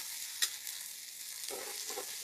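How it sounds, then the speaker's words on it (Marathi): Chopped onion with whole spices fries in a pan, a soft steady sizzle with a spoon stirring and scraping now and then, fairly quiet and close. "चॉप केलेला कांदा आपण फ्राय करून घेऊ व्यवस्थित।"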